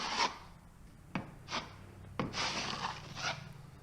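A drywall knife skims joint compound across a wall, knocking down ridges and piled-up mud in a series of soft scraping swipes with a couple of sharp taps, quiet and close, with no voices.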